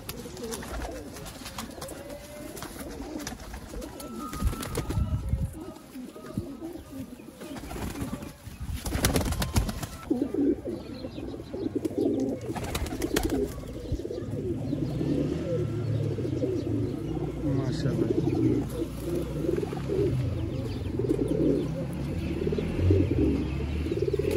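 Breeder pigeons in a Sialkot loft coo repeatedly in low, rounded calls, with several birds overlapping at close range over a steady rustling background and occasional wing and movement noises.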